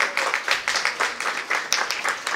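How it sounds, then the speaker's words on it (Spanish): An audience applauds at an exhibition opening at a cultural centre, a dense, continuous patter of many hands clapping at close range. "Yo pido un aplauso para él"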